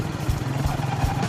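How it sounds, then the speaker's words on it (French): An old battered motorcycle pulls away with a close, uneven engine putter, its low chugging pulses thumping in an irregular rhythm over a rattling clatter. "C'est pas la première fois que je pars avec une moto pourrie."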